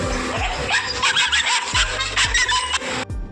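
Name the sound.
dog barking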